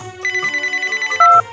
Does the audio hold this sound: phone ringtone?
yes